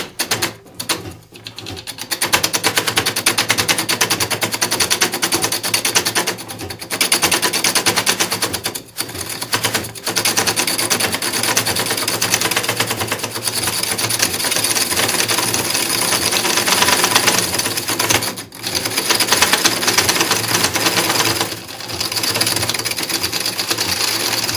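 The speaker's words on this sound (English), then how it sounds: "there's a bit of banging going on down at the bottom here, and that's because the lathe has become" Power wood lathe turning a powder box, loud continuous rapid rattling and banging from the spinning workpiece, with brief gaps and dips in the clatter.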